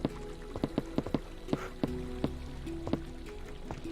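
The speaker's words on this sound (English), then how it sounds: "Fighting water with soul sand is not very fun." Water flows against soul sand in Minecraft as a soft, steady trickle under a run of quick clicks and taps, some in rapid bursts, moderately close and without speech.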